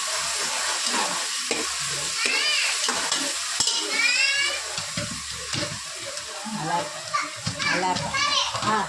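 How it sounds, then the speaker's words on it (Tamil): Masala for chicken biryani sizzles in a pan while being stirred, a continuous frying hiss with scraping under the chatter of children's voices and nearby talk. "பச்சை வாசனை போகிற வரைக்கும் வதக்கலாம்"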